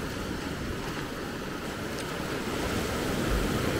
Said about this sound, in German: Und das Meer heute auch wieder ganz glatt, ganz ruhig